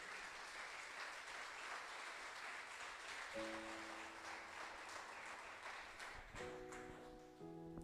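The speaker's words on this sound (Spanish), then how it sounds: "¿Cuántos le dan un fuerte aplauso a su palabra?" A church congregation applauding, a dense steady wash of clapping that runs throughout, with sustained organ or keyboard chords entering partway and continuing beneath it.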